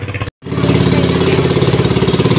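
A loud boat engine chugs steadily at a fast, even rhythm after a brief cutout, running close by on Laguna de Bay with no talking.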